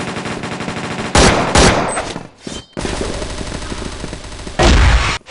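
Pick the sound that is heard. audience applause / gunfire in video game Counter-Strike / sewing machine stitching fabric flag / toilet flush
gunfire in video game Counter-Strike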